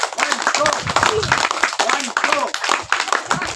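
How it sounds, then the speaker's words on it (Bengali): A crowd at a joint forestry department and human rights event in the Sundarbans claps together in sharp, repeated bursts, loud and close, with voices mixed in. "একসাথে 3 তালি শুরু করো।"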